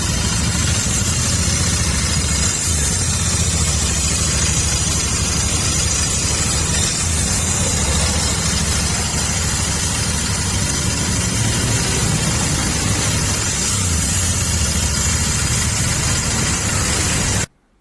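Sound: Royal Enfield Continental GT650 motorcycle engine idling

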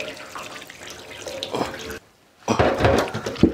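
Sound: deer meat being washed under running tap water

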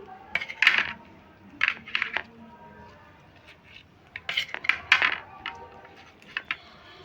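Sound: cutting the threads tied around fish paturi

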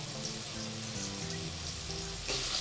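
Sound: potatoes lightly frying with salt and turmeric

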